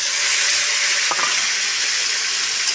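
Spices stirred into a paste are poured into a pan of frying onion, potato and tomato for a light fish curry, with a steady loud sizzle throughout and a brief splash of the pour partway through.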